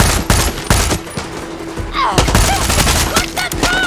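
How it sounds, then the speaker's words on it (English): Rapid bursts of loud, close gunfire from a gun in the shooter game Far Cry 6, sharp repeated shots in uneven clusters with other game effects in between. "And the recoil on this gun is ridiculous."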